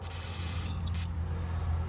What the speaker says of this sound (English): Now you can spray some WD-40 in there.